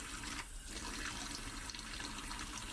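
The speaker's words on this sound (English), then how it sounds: "Am I taking a shower in the sink?" Tap water runs steadily into a sink in a horror video game, a soft continuous splashing stream heard fairly quietly and without any talk.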